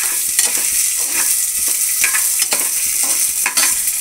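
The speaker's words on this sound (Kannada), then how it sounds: "ಈಗ ಆಲೂಗಡ್ಡೆ ಸಣ್ಣ ಸಣ್ಣದಾಗಿ ಕಟ್ಟಿಟ್ಟು ಮಾಡಿ ಇಟ್ಕೊಂಡಿದ್ದೀನಿ, ಅದನ್ನು ಹಾಕ್ತಾ ಇದ್ದೀನಿ" Small chopped potatoes sizzle in a hot pan for tomato bath while a utensil stirs them in repeated scraping strokes, close and clear over the constant frying crackle, with no speech.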